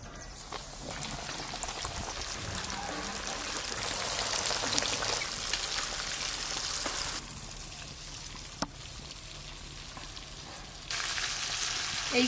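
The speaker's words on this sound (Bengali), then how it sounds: "এই 4 পিস ভাজলেই সব চিকেন ভাজা হয়ে যাবে।" Chicken pieces deep frying KFC style in hot oil: a steady, dense sizzle and crackle fills the whole stretch, dropping briefly partway through before swelling again, with one sharp click near the end.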